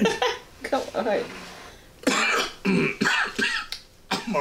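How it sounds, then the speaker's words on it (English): A few rough coughs break through close-up, mixed with people talking and breathy sounds from the same voice. "I'm already coughing."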